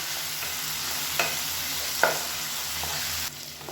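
Tomato and grated coconut frying in a pan for chutney, a steady sizzle with occasional spoon scrapes and stirring knocks, close and continuous with no talk.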